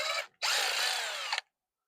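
A power drill backs out a grounding screw from a light fixture plate: a short burst, a brief pause, then a longer steady whirring run of about a second before it stops, close and clear.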